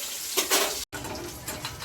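Fish pieces fry in hot oil in a wok, producing a loud, close sizzle that surges as pieces go in, broken by a brief cut, with faint utensil clinks and no voices.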